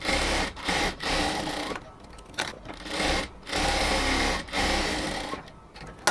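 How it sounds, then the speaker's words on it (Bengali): A sewing machine stitching a blouse runs in several bursts of rapid mechanical whirring, stopping and starting between seams, close and fairly quiet. "এবার হচ্ছে সেলাই করে নিচ্ছি"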